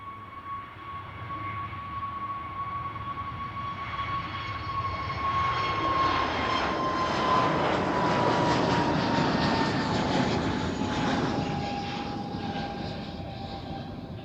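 A KLM jet at Amsterdam Schiphol roars past with a strong, slowly falling engine whine, building to a loud peak midway and fading gradually, with no talking over it.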